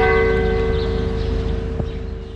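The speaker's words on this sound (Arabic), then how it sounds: "في أربيل أجراس الكنائس دقت داخل جميع كنائس مدينة عنكاوة" Church bells ring for Christmas in the churches of Ankawa, Erbil, a steady loud peal with sustained ringing tones filling the whole stretch and no talk.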